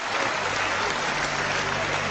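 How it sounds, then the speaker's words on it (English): Sustained applause fills a parliamentary chamber, a dense, steady wash of many hands clapping at even loudness throughout, with no speech over it. "that's the first time I've ever received such applause"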